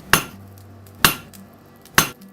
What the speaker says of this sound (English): The peen is used to manipulate the metal and move it back and forth. So striking it in this way will squeeze the metal out.